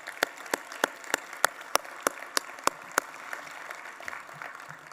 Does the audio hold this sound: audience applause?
yes